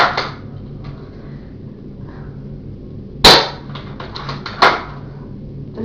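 Airsoft L96 sniper rifle fired twice: a sharp, loud crack midway through and a second, slightly softer snap about a second later, with light mechanical clicks between them over a low steady hum.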